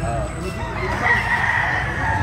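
A native rooster at a poultry sale in Baliwag, Bulacan crows in a drawn-out, strained call over a busy background murmur, with faint voices around.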